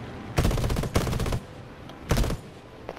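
Aircraft guns in the War Thunder video game fire in loud, close bursts of rapid shots, with two quick bursts followed by a third after a pause; no voices.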